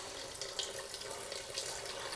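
Water pours steadily into a Vitamix blender for raw pumpkin pie brownies, a faint, continuous splashing trickle with no voices.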